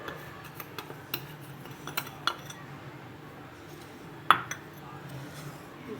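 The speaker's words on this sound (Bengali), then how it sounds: "ভালো করে একটু মিশিয়ে নেই।" Baking powder and sugar being stirred together in a bowl for gulab jamun, with soft scraping and scattered clinks of a utensil against the bowl's side, quiet and close.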